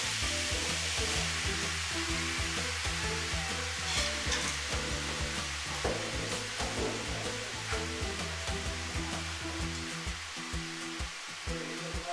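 Chopped tomato sizzles steadily in a frying pan, a loud, continuous hiss and crackle that runs throughout over a low humming background, with no talking.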